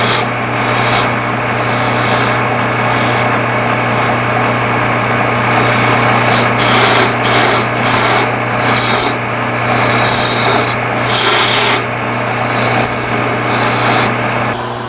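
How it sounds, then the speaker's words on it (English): Sandpaper rubs against a turned wooden box spinning on a lathe, a steady raspy whir over the motor's constant hum, swelling in gentle passes as the grit is worked up toward 400-600. "I normally sand this to about 400-600 grit."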